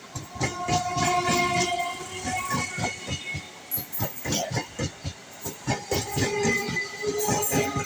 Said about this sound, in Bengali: এই দেখুন কাটোয়ার থেকে ট্রেনটি এখন প্যান্ডেলের দিকে যাচ্ছে